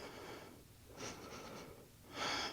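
Heavy breathing during a yoga HIIT workout: strong, rushing breaths in and out, with a loud, close exhale at the end and no talk.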